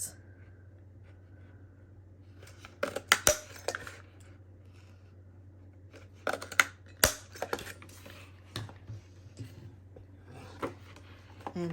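Scissors snip out charm shapes for a journal, giving scattered crisp, close cutting clicks in short clusters over a low steady hum, with quiet gaps between cuts.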